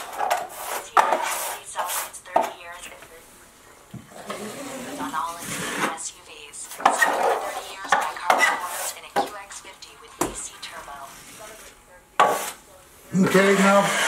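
A 12-inch drywall knife scraping joint compound across a half-inch drywall gap, repeated close rasping strokes with metallic clicks and taps, someone talking in between.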